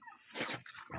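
Small puppies whimpering and yipping softly at close range, a brief cluster of high, thin cries with short gaps between them.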